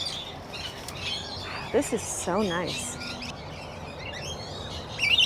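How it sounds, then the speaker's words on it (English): Lorikeets chirp and squawk in a walk-through aviary, with bright tweets scattered throughout and a louder burst of calls near the middle, while a person speaks briefly close by. "Now we're going into Lorikeet Landing, just next door. Gotta watch for birds again."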